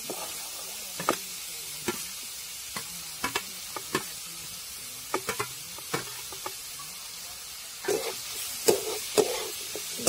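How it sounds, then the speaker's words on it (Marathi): Onions cooking in oil and masala for a soyabean bhaji, with soft background sizzle punctuated by scattered spoon scrapes and stirring clacks against the pan, close and unhurried, with no voices. "मटण कांदा आपल्याला चांगला तेल सुटेपर्यंत परतून द्यायचा आहे."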